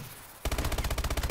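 Rapid automatic gunfire in Call of Duty Advanced Warfare multiplayer bursts in abruptly after a near-quiet moment, a loud, evenly spaced stream of shots with no talking.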